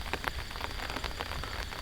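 Steady rain patters on a surface in a hot rural setting, a dense, continuous hiss with soft scattered drops and no voices.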